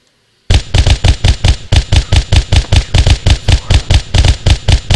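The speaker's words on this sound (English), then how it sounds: "8 shots. Wow, some of these guns are bad." M7 caseless gun from a Halo: Combat Evolved mod firing a rapid string of loud, close shots in steady rhythm after a brief silence, each report sharp and punchy with no talk over it.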